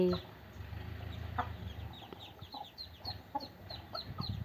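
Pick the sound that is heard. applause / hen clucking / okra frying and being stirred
hen clucking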